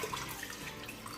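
A short burst of running water, broadband and steady, like water being poured into a pot of lamb stew (nihari).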